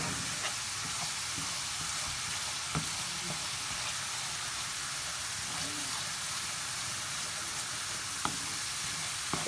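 Grated coconut cooking in a pan to release its oil gives a steady, dense sizzle and crackle throughout, close and even, with faint occasional stirring knocks.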